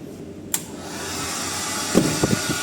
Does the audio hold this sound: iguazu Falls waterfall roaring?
no